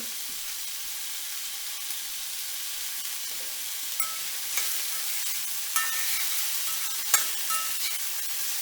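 Salted onions sweat over medium heat in a pan for a fish curry, a steady bright hiss with a few soft stirring scrapes near the end, moderately quiet and alone.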